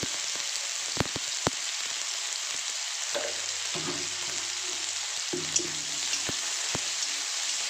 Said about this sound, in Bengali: আলুটাকে আমি অল্প লবণ দিয়ে ভাজবো।